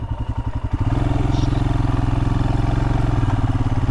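A motorcycle engine running while riding on a camping trip, a loud, close, steady rhythmic thrum with a choppy gear-change stutter in the first second before it settles into an even drone.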